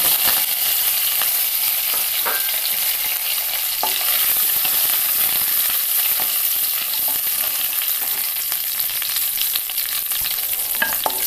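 Dried red chillies and curry leaves frying in hot oil for a mixed vegetable stir-fry, a steady dense sizzle and crackle running throughout at close range, with faint stirring clicks and no talking.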